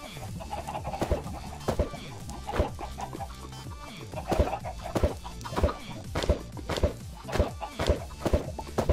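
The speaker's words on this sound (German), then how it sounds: "Hühner spawnen." Chickens in the Minecraft video game cluck repeatedly in an uneven rhythm, mixed with footstep sounds and a voice talking.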